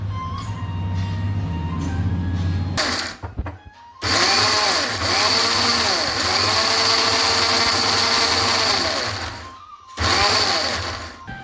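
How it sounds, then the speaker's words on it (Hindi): A kitchen mixer grinder blends a chutney of ridge and bottle gourd peels with coriander powder, mustard seeds, cumin and turmeric, whirring loudly in steady bursts with short pauses between runs. "अब इसकी हम चटनी बना लेते हैं मिक्सी में।"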